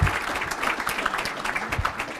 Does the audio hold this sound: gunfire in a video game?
no